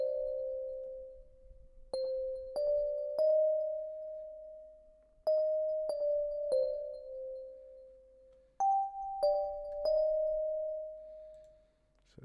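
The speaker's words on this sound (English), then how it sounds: "So that's the bell sound." Bell sample programmed in FL Studio, a clear chime melody of sustained ringing notes struck in small groups with long decays, played alone and gently fading at the end.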